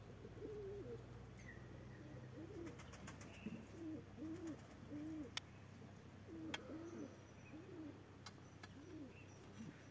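Pigeons coo in repeated soft, throaty phrases, some near and some farther off, over a steady outdoor background with a few faint clicks and taps.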